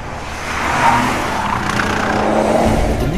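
A Nissan GT-R Nismo with a 591 bhp 3.8-litre twin-turbo V6 drives hard, a loud steady engine roar with a sustained tyre squeal rising near the end and no voices.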